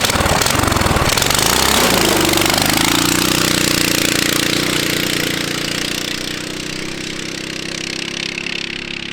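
A cheap 18HP Temu engine on a go kart runs loud and close, with rapid hammering firing at first that settles into a steady, strained drone, continuous and without talk.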